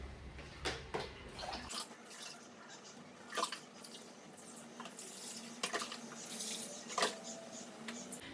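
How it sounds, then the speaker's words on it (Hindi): Water poured onto house plants indoors, faint trickling and dripping with a few brief splashes at intervals, quiet and close, no talking. "पौधे ज़िंदा बचे हुए हैं, मैं इनमें पानी डाल देती हूँ"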